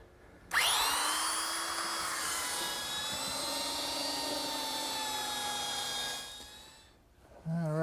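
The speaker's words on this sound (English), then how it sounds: "I can use my belt sander" A belt sander runs steadily on two wooden members clamped together in a vise, whining loudly and continuously from a sharp start for about six seconds, then tapers off, with no talk.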